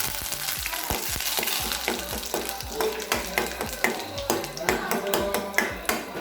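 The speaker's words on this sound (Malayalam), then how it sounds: "ഇതിലേക്ക് ഒരു 1/2 ടീസ്പൂൺ കടുക് ഇട്ട് കൊടുക്കാം. കടുക് പൊട്ടിയിട്ടുണ്ട്." Mustard seeds, curry leaves and dried red chillies sizzle in hot oil as tempering for cucumber pachadi, a steady hiss broken by frequent sharp pops and crackles, close and fairly loud.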